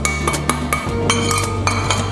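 A spoon mixing sugar into cooled karanji filling in a metal bowl, close scraping and stirring with several sharp clinks of spoon against the vessel over a steady low hum.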